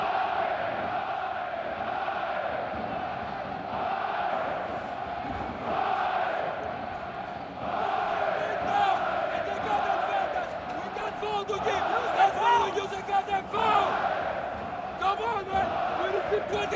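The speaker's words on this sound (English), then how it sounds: "And this crowd is raucous." Raucous arena crowd at a basketball game, a steady loud roar of many voices with rising cheers and shouts toward the end, a commentator's voice partly audible over the noise.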